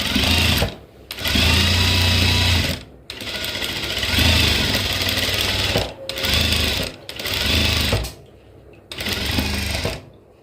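Sewing machine stitching the lining of a crop top, running in several loud close bursts of rapid needle whirring separated by short pauses.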